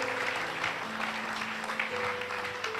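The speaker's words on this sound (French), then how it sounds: "nous applaudissons la grâce de Dieu en lui" A church congregation applauds during a French-language sermon, a steady, dense wash of clapping that holds for the whole stretch, with faint sustained tones humming beneath it.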